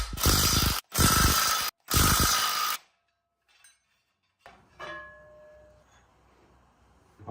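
Ratchet loosening 14mm flywheel bolts on a Toyota 1JZ-GTE engine, three loud close bursts of rapid clicking, then quiet metallic clinks and a faint ringing tap.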